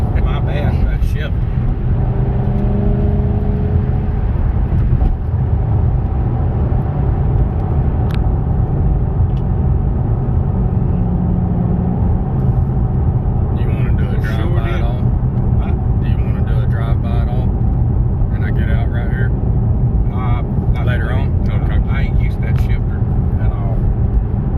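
A 2013 Ford Mustang with a 5.0L V8 cruising at highway speed, a loud continuous low engine and road rumble from inside the cabin, with people talking over it.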